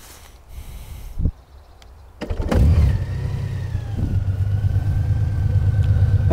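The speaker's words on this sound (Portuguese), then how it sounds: "Adoro o som deste escape" Honda Gold Wing motorcycle with 40,000 km starting up after a click and a brief whir, then settling into a deep, smooth, steady exhaust rumble that swells slightly as it revs.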